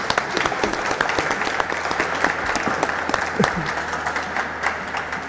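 Applause breaks out for a cook who has just cleaned and cut a whole tuna with a traditional ronqueo, a dense, steady clatter of many hands close by that holds for several seconds with no voices.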